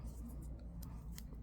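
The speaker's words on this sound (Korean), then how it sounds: "양면 테이프를 자른 후에 양면 테이프를 떼주시고" Scissors snipping double-sided tape while a checked ribbon headband is being made, a few quiet, crisp cuts close by.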